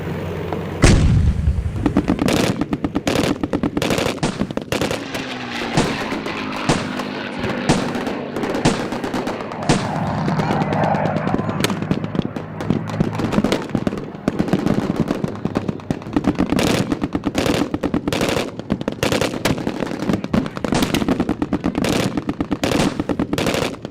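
Dense rapid machine-gun bursts and heavy booms from artillery at a large WW2 battle reenactment, loud and continuous, with sharp cracks stacked close together throughout and a low rumble of engines beneath.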